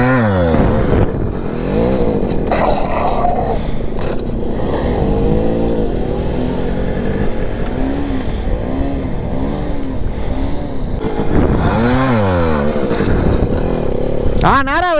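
Motorcycle ridden in a wide circle during wheelie practice, its engine droning and revving up and down continuously and close by, with a voice talking over it.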